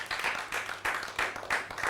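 A studio audience on an African variety show claps in bursts, loud and close, with the applause swelling and easing in several waves.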